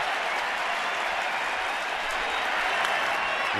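Dense, steady roar of a baseball crowd cheering and applauding at the Washington Nationals home opener, a continuous wash of claps and voices filling the stadium without pause.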